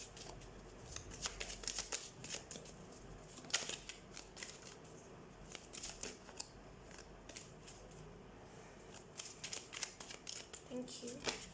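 Tarot cards being handled and shuffled, with repeated crisp riffling and snapping bursts close by, spread through the clip under a low voice.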